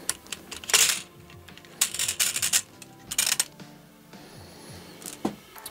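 An airsoft gas blowback MTR rifle is opened, producing close metallic clicks, snaps and rattling mechanism sounds in short irregular bursts with quieter handling between them.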